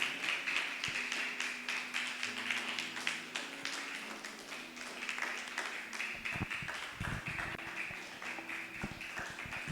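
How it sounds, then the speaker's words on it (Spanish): Applause from a church congregation, a steady run of many hands clapping throughout, moderately close, with a faint tonal background underneath. "Denle un fuerte aplauso al Señor Jesús"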